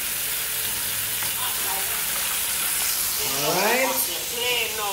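Food sizzles and fries steadily in a baking tin used as a frying pan on a stovetop, a continuous close hiss with a voice speaking over it near the end.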